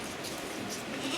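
A goat on a farm bleats close by in the rain, a wavering cry running through the whole moment with steady background noise.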